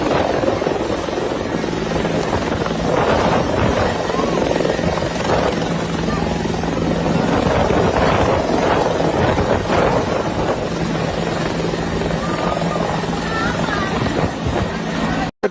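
A helicopter dropping aid supplies in an emergency relief area makes a loud, steady rotor roar and hum with gusty wind noise throughout, and faint voices murmur beneath it.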